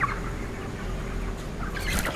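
Broiler chickens in a multi-tier poultry house cluck and murmur quietly and continuously, with a few brighter calls toward the end.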